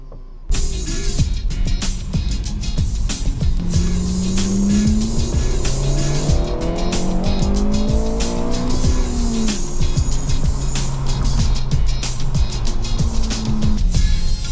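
Several Honda Civic FN2 hatchbacks driving together in a convoy, engines droning steadily and rising and falling in pitch as they accelerate and shift, with tyre and road noise continuous throughout and no talking.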